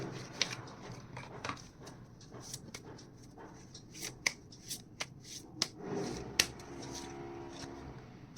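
A deck of Mystic Rose oracle cards is shuffled by hand in soft riffles and flicks, with scattered sharper snaps over a low, steady room background.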